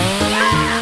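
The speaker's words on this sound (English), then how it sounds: "With a regular old chainsaw!" A regular chainsaw saws into a Snickers chocolate bar in a brief, loud, steady buzzing burst with strained harmonic whine and no voices over it.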